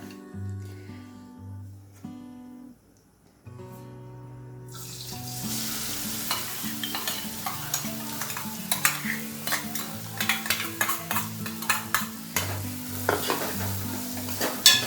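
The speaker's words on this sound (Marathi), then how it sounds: "आता ही चटणी अशी हलवून घ्यायची आहे" Chutney in oil sizzles in a frying pan as a spoon scrapes and stirs in quick, clattering strokes, loud and close, after a quieter opening with soft tonal music.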